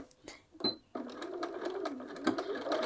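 A sewing machine stitches a divided pocket on a field bag, starting with a couple of short taps before settling into a steady, close motor whir that runs to the end.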